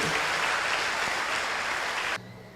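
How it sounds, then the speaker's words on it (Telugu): A church congregation claps loudly in praise, a thick, sustained burst of many hands that cuts off abruptly near the end, leaving a quiet room hum. "అందరూ గట్టిగా చప్పట్లు కొట్టి ప్రభువును స్తుతించండి"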